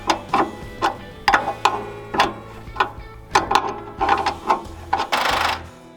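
Irregular clicks, ratcheting and mechanical clunks as the blade tensioner on a Harbor Freight sawmill is tightened, close and uneven in rhythm, with a brief scraping rush near the end.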